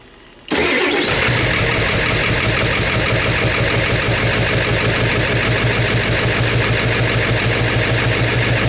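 Ford 7.3 PowerStroke diesel in a 2000 F350 with a fuel bowl delete, starting abruptly after a brief cranking moment and then settling into a loud, steady, clattering idle up close.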